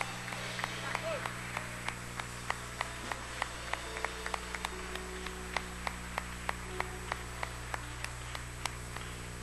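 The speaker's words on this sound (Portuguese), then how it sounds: "Você pode aplaudir esse Jesus que vive e reina." A church congregation at an evening worship service applauding Jesus, with a faint, steady patter of claps over a low hum and quiet background voices.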